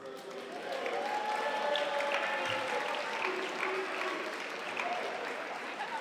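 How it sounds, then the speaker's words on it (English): Applause at a bar association installation banquet swells after a quiet start and holds steady as a dense patter of clapping from a large audience. "Why do you get so many more applause than everyone else?"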